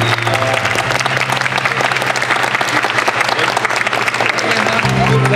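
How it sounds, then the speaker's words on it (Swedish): A theater audience at an improv show applauds loudly and continuously, a dense wash of clapping from many hands that holds steady throughout without any speech. "Trevligt, stor applåd för Lena!"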